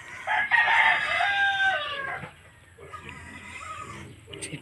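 Chickens kept near a house cluck and crow loudly at close range, a long crow-like call followed by softer clucking and squawks, with no voices over them.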